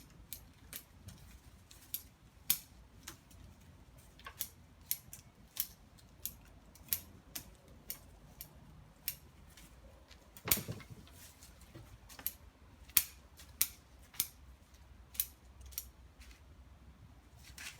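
Pruning scissors snip shoots on a trident maple bonsai, giving a steady run of sharp, close clicks roughly every half second to second, with one heavier cut partway through and a quiet room otherwise.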